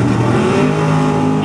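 A Chevrolet Camaro Top Sportsman drag race car accelerates hard at a night drag race, its loud, roaring engine note climbing steadily, while an announcer talks over it.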